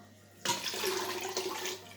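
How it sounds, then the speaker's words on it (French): Ginger juice is poured through a filter, giving a sudden onset of steady liquid splashing and trickling that runs close and fairly loud for about a second and a half before ending. "Je vais filtrer."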